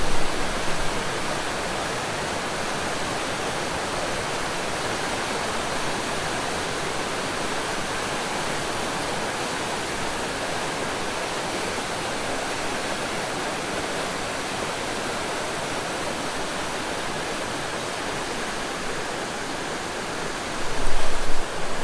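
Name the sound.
river rushing in full flood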